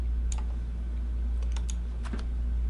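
Keys tapped on a computer keyboard in a few quiet, irregular clusters of clicks over a steady low hum, no voices.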